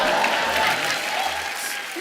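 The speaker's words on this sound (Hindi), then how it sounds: "ये बजा दो यार, तालियां बजाओ।" Studio audience at a television comedy show breaking into sustained clapping, dense and steady across the whole moment with a faint murmur underneath.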